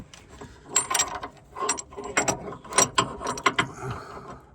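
Ratcheting wrench tightening a part on a Peugeot, several short bursts of rapid metallic clicking with brief pauses between strokes, close and fairly loud with no talking.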